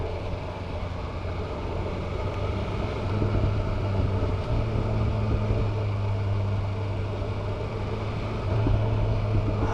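A 2025 BMW M 1000 R Competition naked motorcycle rumbles steadily while riding, a continuous low engine drone with wind noise that swells slightly near the end.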